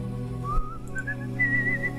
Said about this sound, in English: I'm just an aimlessly whistling ghost